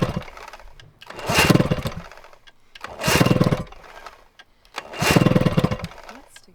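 A 1980s outboard boat motor being pull-started, three loud sputtering cranking bursts in a row about two seconds apart, each briefly catching and dying away without running.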